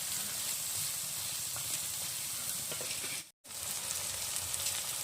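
Onion, garlic and spices fry in a pan while being stirred, giving a continuous soft sizzle and hiss with faint scraping, broken by one brief gap of silence.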